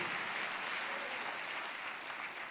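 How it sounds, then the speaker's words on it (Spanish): A church congregation applauds during a Spanish-language service, a steady, moderately distant wash of clapping that continues evenly throughout with no voices on top. "Démosle un fuerte aplauso al Señor, mis hermanos"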